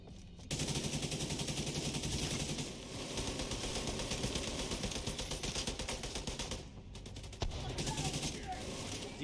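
Mounted machine gun firing in a video game, long sustained bursts of rapid, dense automatic fire that fill nearly the whole stretch with only brief breaks, loud and close.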